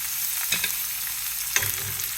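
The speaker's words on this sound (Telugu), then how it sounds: "ఇది రోస్ట్ అయ్యేంత వరకు కలపెట్టండి." Chopped onions, green chillies and hing sizzle steadily in a pan, with two short scraping stirs of a spoon cutting through the continuous close frying hiss.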